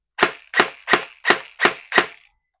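An SLR V3 gel blaster with a mosfet fires six sharp single shots in single-shot mode, evenly spaced and loud, each a crisp snap, then silence.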